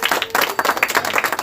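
Guests at a birthday party clap together in a steady, fast patter of many hands, close and continuous, with voices faintly mixed in.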